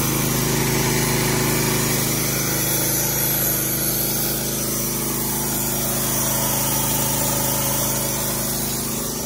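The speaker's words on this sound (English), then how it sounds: "I don't turn the saw motor up very high." A steady, loud mechanical whine of a sawmill saw motor cutting cedar, running continuously with a constant drone and no pauses throughout.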